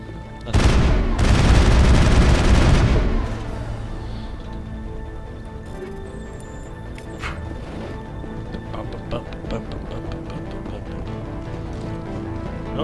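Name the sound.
gunfire in the video game Mass Effect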